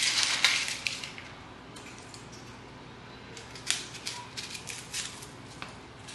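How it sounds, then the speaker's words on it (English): Papery crackles and scratchy rustles from an onion's dry skin being peeled by hand in a home kitchen, with several brief bursts separated by quieter stretches, close up and fairly soft, with no talk. "We have our onion. I'm gonna peel this off."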